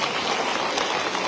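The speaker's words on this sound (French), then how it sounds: "Vous pouvez déjà applaudir Martine Charret." An audience at a municipal New Year's greetings event applauds Martine Charret, a steady, dense patter of clapping with no voices over it.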